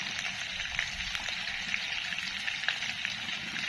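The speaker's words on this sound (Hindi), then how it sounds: "ऐसे ही मीडियम फ्लेम पर आलू को फ्राई करना है।" Potatoes with turmeric fry in a pan over a medium flame, giving a continuous soft sizzle with small crackling pops close by and no voices.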